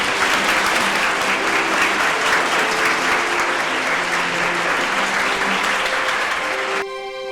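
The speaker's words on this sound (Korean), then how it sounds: "모두 박수 부탁드립니다." A large audience applauds at a military nursing academy gathering during a presidential visit: sustained, dense clapping from many hands, fairly loud and even for about seven seconds before cutting off abruptly.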